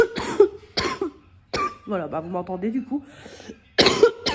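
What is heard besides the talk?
wet chesty cough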